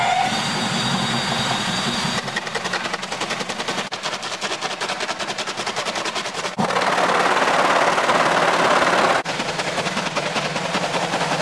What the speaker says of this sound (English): Here's the final grinder with the drill hooked up and that vent blower, and I've also hooked the hose on the end of it.